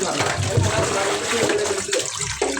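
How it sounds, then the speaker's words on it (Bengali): Small fish being rinsed under a running tap, water splashing steadily and loudly close by, with a brief break near the end, and no speech. "এইভাবে অনেকক্ষণ মাছগুলো ধুয়ে নিতে হবে"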